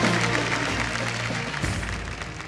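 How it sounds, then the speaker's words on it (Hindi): Studio audience on a televised dance competition applauds in a brief, dense wash of clapping over a low background hum, lasting only a couple of seconds. "एक बार जोरदार तालियां हो जाए गाइस।"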